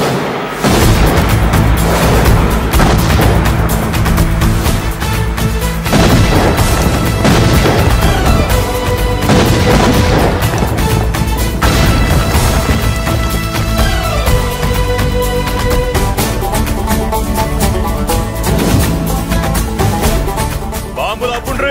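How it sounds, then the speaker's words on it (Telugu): Bombs explode in a Telugu action film scene, loud and dense, with repeated booming blasts and bangs layered over a dramatic musical score that runs without a break. "బాంబులు అప్పుండ్రీ"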